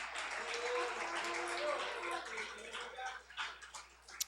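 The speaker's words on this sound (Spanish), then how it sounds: "Más fuerte ese aplauso para Dios." Congregational clapping at a church service, fairly faint and uneven. Voices and chatter mix in, and it tapers off toward the end with a few scattered claps.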